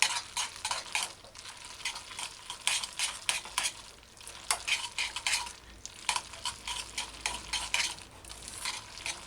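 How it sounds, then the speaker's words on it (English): Macaroni being stirred in a pot to coat it with melted cheese, giving a steady run of close, wet scraping and stirring strokes with light clinks of a utensil against the pot and a faint sizzle. "Stir in properly and coat the pasta with cheese."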